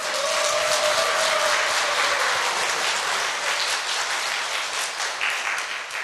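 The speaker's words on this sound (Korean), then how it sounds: "이런 열광적인 박수는 내 평생 처음 받아보네요" Enthusiastic applause from a church congregation at a praise seminar: dense, loud, sustained clapping that fills all six seconds, easing only slightly toward the end.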